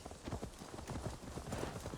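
Horses clip-clop steadily on the ground in Assassin's Creed Valhalla, a quiet, continuous patter of overlapping hoofbeats from several animals with low background noise.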